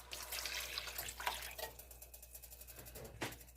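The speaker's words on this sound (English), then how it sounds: "we're just going to go ahead and add the rest of that can of beef broth" Canned beef broth pours into a cooking pot in a quiet kitchen, a soft, faint liquid trickle and splash with a couple of louder glugs near the end.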